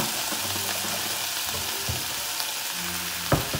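Salmon sizzles in a pan with balsamic vinegar, a dense, continuous frying hiss heard up close, with a brief sharper clatter near the end.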